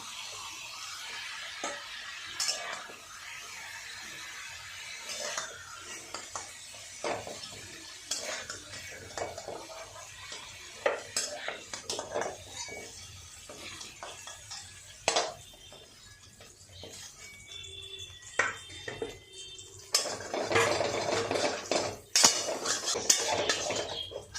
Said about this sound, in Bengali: আমি এবার পনিরটাকে তুলে নেব বেশি কড়া করে ভাজবো না